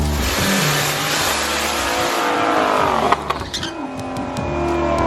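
A turbo LS-powered Volvo 240 engine revving hard at LS Fest East, a loud sustained roar that rises, drops briefly, then climbs again, close by with no talk.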